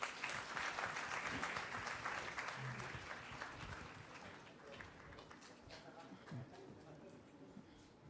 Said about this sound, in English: amidst a good round of applause